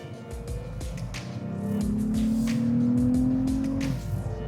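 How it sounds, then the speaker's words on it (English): Engine of a 2021 Lexus ES 350 F Sport revving in Sport Plus mode: a steady, rising drone that climbs and holds high before easing off, heard from inside the car with road noise beneath it. "It definitely revs it out and holds the gears longer in Sport Plus."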